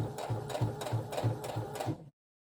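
A sewing machine stitches close to the fabric edge for a dress hem, giving a close, rhythmic thumping run of about seven even pulses before stopping abruptly into silence.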